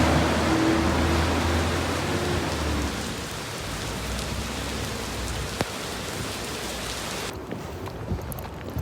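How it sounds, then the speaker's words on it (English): Heavy rain pours down in a dense, constant roar in New York City, close and loud, easing slightly toward the end with a few sharper drips. "It's pouring rain."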